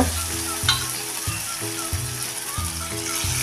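Tomato and dal fry in a pan, a steady bright sizzle running throughout with repeated low rhythmic knocks and scrapes from stirring, close and moderately loud.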